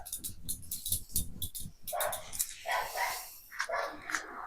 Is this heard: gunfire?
no